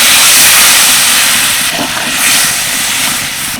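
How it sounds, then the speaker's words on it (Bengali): Loud hissing sizzle as water, the leftover spice-washing water, hits fried masala in a hot pan for a masoor dal curry, a close steam rush that swells and tapers. "এবার আমি এর মধ্যে দিয়ে দেবো জল আমি মশলা ধোয়ার জলটাই ব্যবহার করছি"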